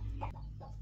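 A brooding hen sitting on a clutch of eggs gives a short, low clucking murmur at close range, with no voices.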